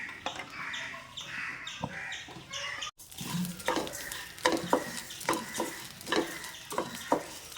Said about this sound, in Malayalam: അപ്പോൾ അരി നമുക്ക് ഇതിലേക്ക് ഇട്ട് കൊടുക്കാം. നന്നായി പൊട്ടി വരുന്നവരെ വറുക്കണം